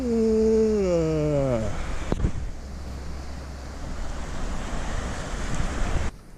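Mineral Creek rushes beside a campsite in Silverton, Colorado, a steady broadband wash of flowing water that carries on after a brief opening tonal sweep and a sharp knock.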